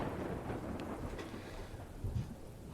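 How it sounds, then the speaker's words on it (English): Rain hisses steadily through a thunderstorm in a jungle setting while a low rumble of thunder rolls underneath, faint and distant, with no voices. "Oh, you can hear the thunder booming."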